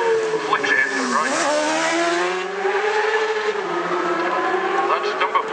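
A racing motorcycle at the Isle of Man TT races through Ballaugh Bridge on a sunny day, its loud engine note rising and falling as it sweeps past and into a right-hand bend, with a commentator talking over it.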